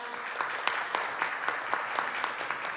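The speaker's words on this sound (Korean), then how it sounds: "여러분 큰 박수로 축하해 주시기 바랍니다" Applause at a startup award ceremony honoring an excellence prize winner: a brief, fairly faint burst of many hands clapping in a hall, steady with small accented claps.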